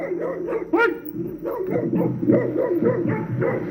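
A stray dog barks repeatedly, sharp and close, at night while a cyclist shouts over it in a tense, noisy outdoor exchange.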